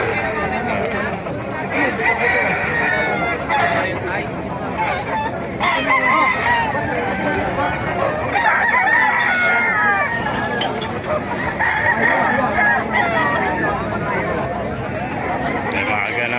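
Many chickens cluck and crow together in a busy, noisy yard in Bocaue, Bulacan, with people talking over the continuous birdsound.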